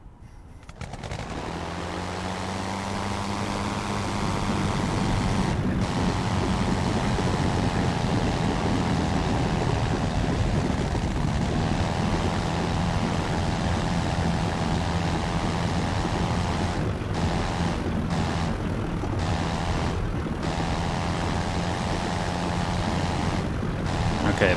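Airco DH.2 biplane from Rise of Flight sitting on the runway with its engine idling, a steady propeller drone and low rumble holding at a constant level throughout, with brief dips near the end.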